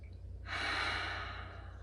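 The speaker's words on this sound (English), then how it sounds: "Take a couple breaths here. Nice big breaths." During a yoga flow, a single deep breath is drawn in or let out, a soft airy rush that swells near the microphone for about a second and then fades, with no talking.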